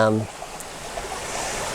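Creek water flowing in the woods, a soft steady rushing trickle that follows a brief burst of a voice at the start.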